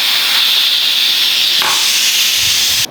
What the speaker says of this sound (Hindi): तो जी स्टीम निकल गई है कुकर की।